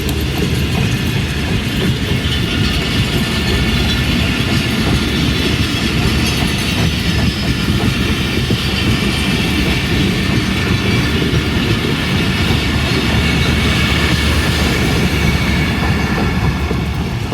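A train departs Drigh Road railway station in Karachi, its wagons rolling past with a continuous heavy rumble and rhythmic clickety-clack of wheels on rail joints, loud and steady throughout.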